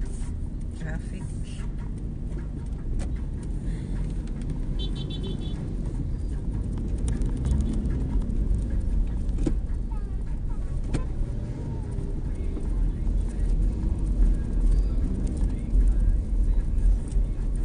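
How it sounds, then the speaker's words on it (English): Street traffic in Baclaran in the Philippines on Independence Day, a steady loud rumble of passing cars and engines close by, with voices talking over it. "Traffic."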